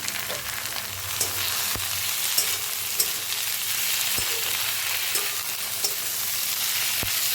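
Onion, tomato and capsicum frying in hot oil for chili paneer, a continuous dense sizzle heard close, with occasional sharp spatula taps against the pan and no voices.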